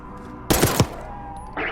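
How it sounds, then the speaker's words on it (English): A short, loud burst of rapid gunfire in Call of Duty: Black Ops 6 cuts in briefly, then drops back to a quiet ambient hum with a faint high tone. "You hearing gunfire?"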